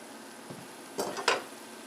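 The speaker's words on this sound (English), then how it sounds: "Stir it up. Stir it up." Brief scraping stir of food in a pan during home cooking: a faint touch, then two louder swishing scrapes close by, no talk.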